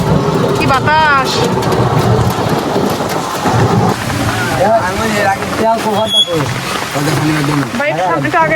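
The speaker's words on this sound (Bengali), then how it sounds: "কি বাতাস।" Strong wind roars steadily against a motorbike rider in rainy weather, a loud, continuous buffeting rush with someone talking over it throughout.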